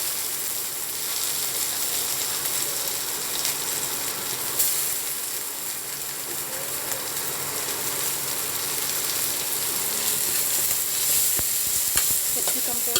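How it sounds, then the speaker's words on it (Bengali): Capsicum frying with lightly browned onions in a pan, a loud, dense sizzle that runs without pause and picks up some stirring scrapes and clatter near the end. "ক্যাপসিকামটাকেও হালকা একটু ভাজা ভাজা করে নেব"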